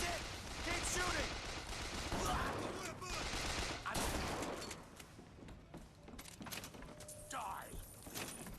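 Sustained gunfire in the video game Bioshock Infinite: a dense, continuous barrage of shots with shouting voices mixed in, loud throughout and easing slightly toward the end.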